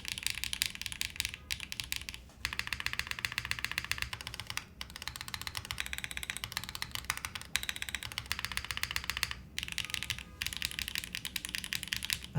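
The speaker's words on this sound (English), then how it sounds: "what you're hearing on the White Fox is the upstroke" Fast, continuous typing on a custom TKL mechanical keyboard with White Fox linear switches, a dense clatter of keystrokes with a few brief pauses, close and steady, no voices.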